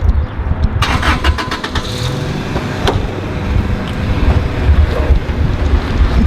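A car engine cranks and starts, then idles and revs loudly up close, with some wind buffeting the microphone throughout.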